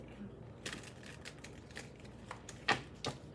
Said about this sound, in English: Let me go ahead and shuffle so nobody has anything smart to say.